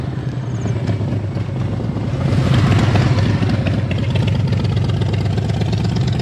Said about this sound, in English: Big sounding vehicle. I think it's a motorbike.